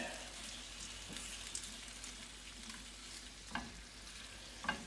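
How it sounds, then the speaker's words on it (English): Artichoke hearts heating in a pan, a soft, quiet sizzle crackling steadily while a utensil stirs them, with a few sharper scrapes and taps near the end. "We'll stir those around, get that to heat up."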